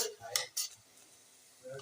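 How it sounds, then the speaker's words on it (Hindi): A knife clicks and taps against a cutting board or dish while boiled potatoes are sliced into rounds, a few quick close strikes followed by quiet, with faint kitchen handling at the end. "ऐसे गोल गोल कट कर लेंगे।"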